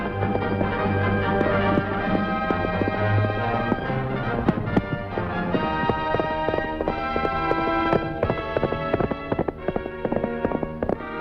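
Horses gallop away in a 1950 Western, their hooves drumming a fast, busy clip-clop that runs without a break for about eleven seconds, loud and close under a musical score.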